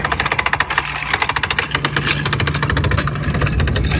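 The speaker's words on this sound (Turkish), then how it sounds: "Bu arada arkadaşlar çapa salınıyor." A boat's anchor chain rattles out in a rapid metallic clatter, loud and rhythmic, over the steady rumble of an engine.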